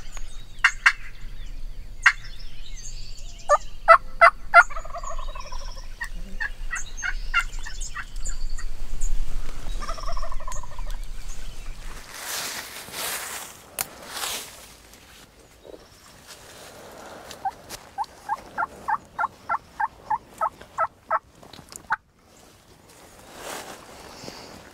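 A wild turkey gobbles repeatedly during a Texas turkey hunt, with rattling gobble bursts at moderate distance across the first half. A later run of evenly spaced calls comes over outdoor ambience and occasional rustling.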